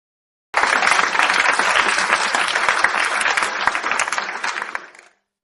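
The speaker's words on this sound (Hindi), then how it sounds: "फिर अचानक तालियों की गड़गड़ाहट से गूंज उठी" A large village crowd bursting into thunderous applause, dense continuous clapping that starts abruptly, holds loud and steady, then tapers off and stops.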